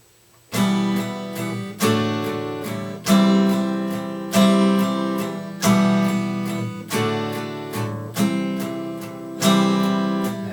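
Acoustic guitar strumming full chords in a steady rhythm, about one strong strum every second or so, close and clear with no voices.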